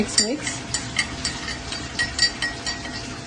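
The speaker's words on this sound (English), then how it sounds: "Give it a good mix." Spoon stirring milk into a cup of coffee, with a quick series of light clinks and scrapes against the cup, close and fairly crisp, repeating through the few seconds.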